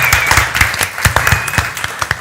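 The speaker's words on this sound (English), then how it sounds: "Big round of applause for all of them" A small group claps at a virtual summer songs kickoff event. The individual claps are sparse and distinct, landing unevenly and fairly close, with a thin steady tone running behind them.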